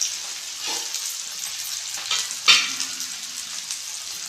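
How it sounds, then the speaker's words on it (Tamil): Tomatoes sautéing in oil in a covered pan for a brinjal and drumstick kara kuzhambu, giving a steady close sizzle with a few brief louder crackles, no talking. "தக்காளி நல்லா வதங்கட்டும்."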